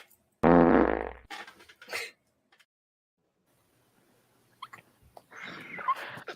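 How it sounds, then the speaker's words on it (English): A loud, buzzy fart of about one second, heard alone right at the start, followed by brief short noises and a stretch of near silence, then a faint rustle near the end. "You want to hear me fart?"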